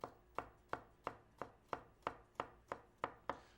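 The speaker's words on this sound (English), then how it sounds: "What we're going to do with this is just cut that nice and thin." Garlic sliced thin with a knife on a board, a steady run of about eleven crisp, evenly spaced chops, close and clear with no voices.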